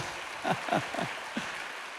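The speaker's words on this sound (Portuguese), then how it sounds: "Pode bater palmas ao Senhor, né?" A church congregation claps their hands in worship, a steady dense wash of clapping that holds evenly throughout, with faint voices rising briefly over it.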